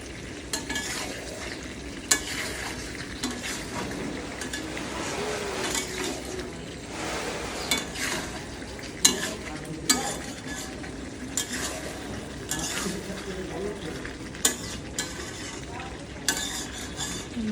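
Meat being stir-fried in a pan, a continuous close sizzle broken by frequent scraping strokes and sharp metal clinks of a spoon against the pan, with no voices.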